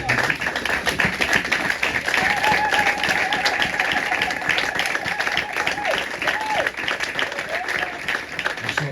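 A church congregation at a Sunday service applauds steadily and densely for the whole stretch, a loud continuous wash of clapping with voices singing or calling over it.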